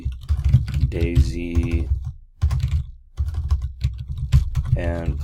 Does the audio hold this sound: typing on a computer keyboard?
yes